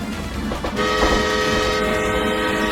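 A steam train rumbles close by, and a sustained whistle or horn tone begins partway through over the low mechanical roar, with no voices.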